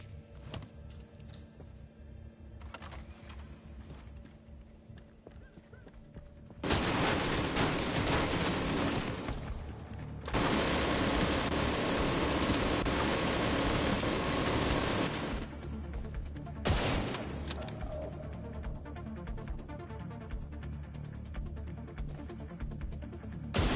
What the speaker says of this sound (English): I just found an ammo stockpile. I'm gonna detonate it.